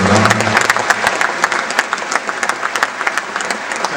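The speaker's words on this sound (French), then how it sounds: "Oui, vous pouvez applaudir pour cette là." An audience at a Vendée U presentation breaks into applause, a dense burst of many hands clapping with sharp individual claps poking through, and a brief low tone early on before the clapping thins slightly.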